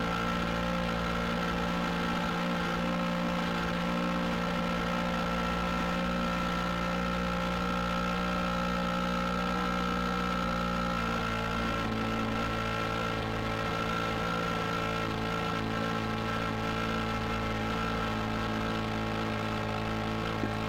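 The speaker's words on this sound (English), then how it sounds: "You can see Ted's plane coming in from the right" An RC model Cub airplane engine at the DeLand RC Club field, flying the pattern past the viewer with a continuous droning, buzzing tone that shifts in pitch as the plane goes by, with steady background noise and no talking.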